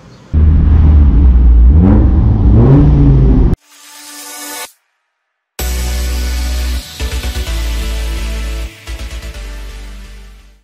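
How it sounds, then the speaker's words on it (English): A stock exhaust on a Mazda Miata barks through several loud revs, with a short engine burst, a pause and silence, then more revving that ends in quick throttle blips, with no voices. "This is the exhaust that came on good old Project Miata here."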